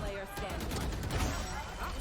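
Rapid gunfire from the tactical shooter Valorant on the Lotus map during a VCT esports match, a quick burst of sharp shots layered over game noise and excited commentary.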